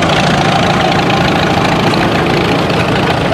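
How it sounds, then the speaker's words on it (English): Engine of a 1955 Farmall 300 tractor pulling a 214 plow at a plow day, a loud, close, steady low rumble that stays constant throughout. "driving a 1955 Farmall 300 and a 214 plow"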